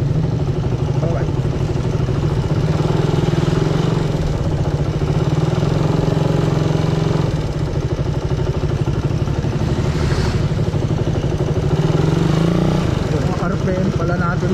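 A Suzuki Raider 150 motorcycle idles at about 1,500 RPM with a steady, close engine drone, while someone talks over it throughout.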